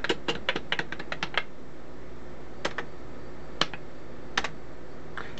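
Keys clack on the keyboard of a Motorola 9100-386 computer: a quick burst of crisp typing, then a pause, then a few scattered single keystrokes, close and clear with no voices.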